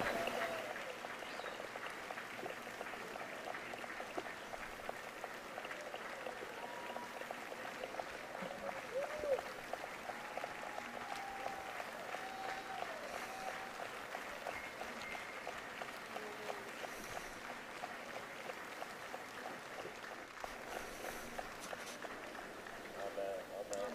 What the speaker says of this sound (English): us give the family Sundin, Elsa Magdalena, a hand of applause and the cheer of the people